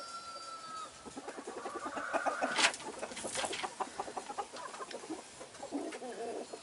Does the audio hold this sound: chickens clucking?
yes